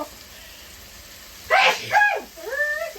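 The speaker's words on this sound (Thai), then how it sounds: "จาม" A single loud human sneeze bursts out in a quiet home kitchen while pork curry with glass noodles and pork bones is being prepared, followed by a brief voiced exhale, then near silence.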